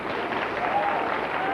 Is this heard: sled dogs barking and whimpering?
no